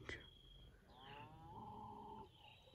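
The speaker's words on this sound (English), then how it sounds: "Can you hear some cows over in the field?" Cows in a field, a faint distant moo drawn out over a couple of seconds, with a sharp short sound at the start, set against quiet evening outdoor background.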